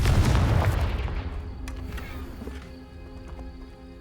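The Confringo blasting spell exploding in the Hogwarts Legacy video game: a loud, deep boom that opens the clip and rumbles away over a few seconds, leaving faint crackling debris and ambient tones.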